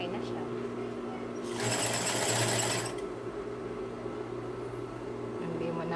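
A sewing machine stitches around a fabric scrunchie, a steady close mechanical whir that speeds up briefly into a louder rapid run before settling back, with a person talking quietly underneath.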